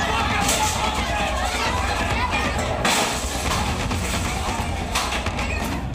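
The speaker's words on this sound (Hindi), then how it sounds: "अस्पताल के अंदर इमरजेंसी वार्ड में घुसी भीड़।" A rioting mob forces its way into a hospital emergency ward, a dense, continuous crowd roar of shouting and commotion with scattered thuds and crashes, loud and sustained throughout.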